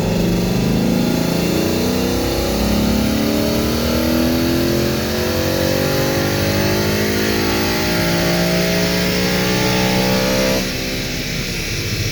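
A stock 2018 Ford Mustang with a cold air intake accelerates hard through the gears, its loud engine revving up steadily in one sustained pull, with a shift near the end.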